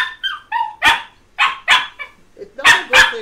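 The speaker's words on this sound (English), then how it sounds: "That dog! Hey, stop it!" A dog barks repeatedly in loud, close bursts of sharp barks and yips, with a few brief whines between them and no voices over it.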